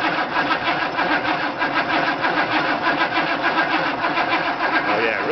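A truck engine with glow plugs cranks on its starter in a steady rhythmic churn that pulses evenly for several seconds without catching, loud and close.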